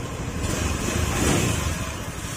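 A car engine runs steadily with its pulley removed, a continuous close mid-pitched hum and rumble with no metallic grinding, holding at an even level throughout without talk.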